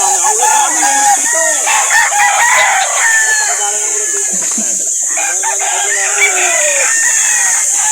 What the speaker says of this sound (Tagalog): Ang dami dalang manok.